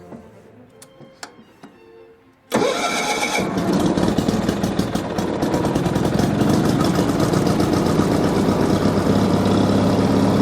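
Bolens HT20 garden tractor engine after a few quiet clicks and ticks, then a sudden cold start into a loud, steady, close running chug that continues without talk.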